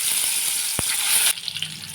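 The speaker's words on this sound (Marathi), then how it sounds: "हे आपण अशा प्रकारे वांगे फ्राय करण्यासाठी ठेवलेले आहे" Stuffed eggplant fries in hot oil in a pan, giving a loud, bright sizzle with one sharp clink before the hiss drops abruptly to a softer crackle.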